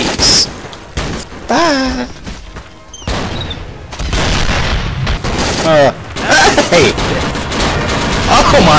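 Grenade blasts and bursts of gunfire ring out in the World War II dinosaur shooter Dino D-Day, with loud booms and rapid shots packed close together while a voice speaks briefly over the combat.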